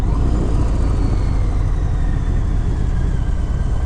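A 2022 Harley-Davidson Fat Bob motorcycle engine pulls hard on a back stretch, a loud, steady low rumble mixed with wind roar, continuous throughout with no talk.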